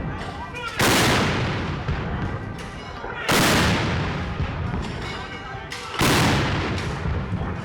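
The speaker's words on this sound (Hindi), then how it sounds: "जैसे जैसे ये तोपों की फायरिंग होती है, आपको ये पूरी ज़मीन हिलती हुई महसूस होगी।" Ceremonial cannons fire during a 21-gun salute at the Red Fort in Delhi, three huge booming blasts spaced a few seconds apart, each with a long rumbling decay, loud and close.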